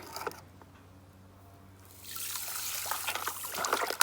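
Liquid fertilizer trickles and splashes steadily onto cabbage plants, starting faint and then growing into a louder, continuous pouring with occasional drips near the end.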